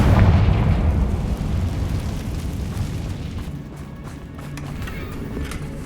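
A Confringo blasting-spell explosion in Hogwarts Legacy: a loud, deep boom that opens the moment and then rumbles and fades over several seconds, heard on its own without talk.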